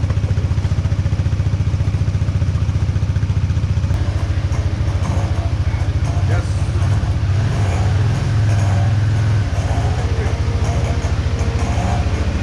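A motorbike engine being started at a vehicle emission testing point in Sri Lanka, then idling with a steady, loud, close rumble and clatter over roughly twelve seconds, amid background bustle.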